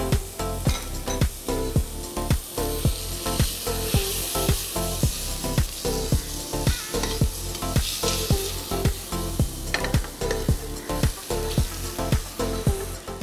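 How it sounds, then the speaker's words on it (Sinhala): Garlic sizzles in a frying pan while being stirred, a loud continuous frying hiss broken by regular clacking strokes of a utensil against the pan, close up. "සුදු ලුණුත් එකතු කරගත්තා."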